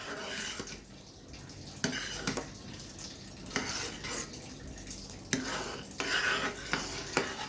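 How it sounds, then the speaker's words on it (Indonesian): Steady scraping and stirring in a pot of boiling white pudding layer for a pumpkin layered pudding, with occasional louder clanks of the spoon against the pot and a soft bubbling hiss underneath. "Kita aduk-aduk terus sebentar."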